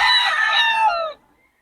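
A fighting-cock stag crows once, a close, loud, strained cock-a-doodle-doo lasting just over a second before trailing into quiet.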